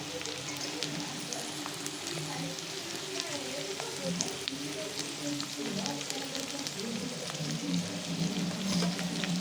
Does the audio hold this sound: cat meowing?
no